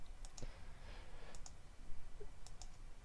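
Mouse buttons click in a sparse, irregular run while points are plotted around an area on a computer map search, the crisp ticks fairly close over a faint background hiss.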